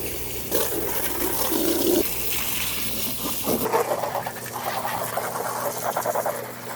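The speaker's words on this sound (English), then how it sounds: "The sump pump is going to pump from there" Sump pump running to drain water from a pond bog filter through a hose, a sloshing, gurgling water rush that shifts partway through into a steadier trickling and splashing.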